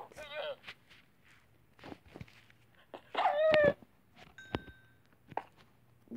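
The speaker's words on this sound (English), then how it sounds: "Yeah, two dogs approaching me." Minecraft wolves whine and yelp faintly as they approach, mixed with light footsteps and game noises, with someone talking in between.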